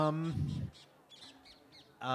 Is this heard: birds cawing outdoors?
yes